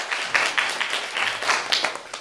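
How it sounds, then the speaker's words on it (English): An audience at a talk applauds a Boeing 737 pilot with moderate, slightly distant clapping that rises and falls unevenly over a couple of seconds. "I think we ought to clap for Gene Harper."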